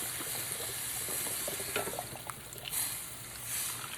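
Vegetable stock is poured from a 32-ounce carton into a soup pot for a zucchini, leek and spinach soup, making a continuous close splashing trickle of liquid without talk.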